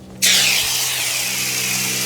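A sudden, loud hiss of pressurized water spraying onto a car wheel to rinse off wheel cleaner starts abruptly and continues steadily, close up, with a faint low hum underneath.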